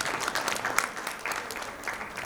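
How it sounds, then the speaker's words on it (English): Audience applause at a national medical education and entrepreneurship conference, a steady wash of many hands clapping at moderate volume, filling the room without pause for a couple of seconds. "Dr. Shyam, please give a good applause."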